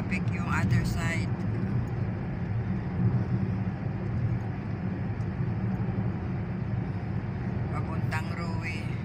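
Steady road traffic on a city road near an airport in Oman during a storm, a continuous low rumble of cars driving past under someone talking throughout.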